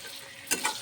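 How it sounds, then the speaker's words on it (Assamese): Green chillies and onions fry in a pan with a low continuous sizzle, broken by two quick scraping stir strokes near the end of the short stretch, no voices present. "এতিয়া কেঁচা জলকীয়া আৰু পিঁয়াজখিনি আমি ধুনীয়াকৈ ভাজি লৈছোঁ।"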